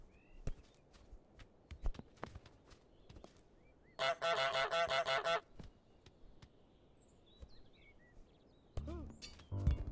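Goose honking in Untitled Goose Game: a loud burst of rapid repeated honks in the middle, then a shorter honk near the end, set among scattered footsteps and light clicks.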